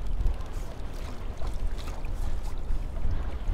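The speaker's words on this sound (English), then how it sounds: "Goodness gracious, stupid wind." Steady wind rushes and buffets across open water during a kayak fishing outing, a continuous broadband roar with low gusty rumble and faint water sloshing, loud and close, with no one talking.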